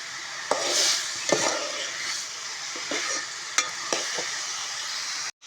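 Chili powder, salt and turmeric being stirred into a frying pan, with a steady sizzle underneath and several sharp spoon scrapes and taps against the pan spaced through it, close and alone.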